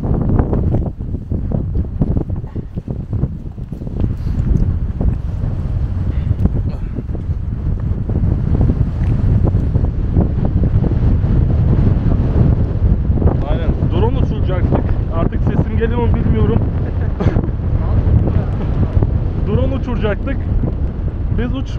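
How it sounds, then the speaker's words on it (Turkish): Strong wind gusts batter the microphone on a mountain hike to Keçi Kalesi, a loud, continuous low rumble and buffeting. People talk over it throughout. "Yalnız fena rüzgar var ha."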